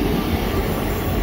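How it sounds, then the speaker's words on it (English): A South Western Railway Class 159 diesel unit arriving at Honiton, heard as a steady, loud rumble of wheels and engine filling the whole stretch, with no voices over it. "coming in now, it will be that South Western Railway train coming in to London Waterloo"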